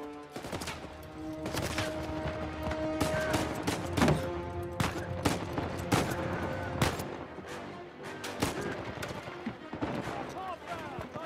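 Gunfire in Uncharted: dense bursts of sharp shots and automatic fire crackle without pause, loud and close, with a few sustained tones running underneath.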